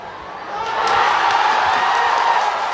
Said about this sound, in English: you can tell from the Kandy crowd that has refound its voice